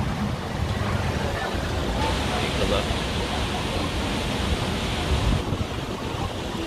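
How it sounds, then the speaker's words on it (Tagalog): Steady, roaring rush of strong wind and heavy rain, broadband and unbroken, with a brief spoken question over it. "Sobrang lakas na naman ng hangin."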